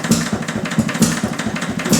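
Detroit Engine Works 2HP engine running with its spark advanced, a crisp, steady exhaust note of rapid regular firing pulses, close and fairly loud throughout.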